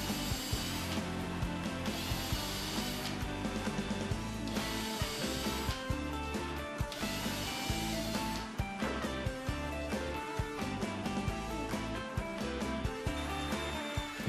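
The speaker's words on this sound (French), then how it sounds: "Percez un trou dans chaque cavité fraisée pour le rondin." A drill bores holes through wood into countersunk cavities for a log rung on a climbing cube, a steady continuous whirring and grinding from a close tool with small rattling bumps throughout.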